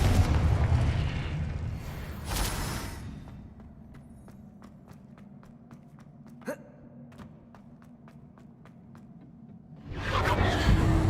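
A blasting-curse explosion spell in the Hogwarts Legacy video game, a sharp single burst in the middle amid a rapid series of clicking ticks, with louder rushing bursts of game sound at the start and end.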